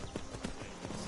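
Horse hooves clip-clopping in quick irregular steps, faint and close, over a noisy, hissy background with no clear speech.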